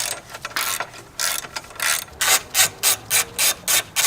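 A ratchet with a 13mm socket removes the strut bar fasteners on a BMW X3 M or X4 M Competition, making close, crisp clicking strokes that start irregular and then settle into an even rhythm of about eight clear swings, with no talk.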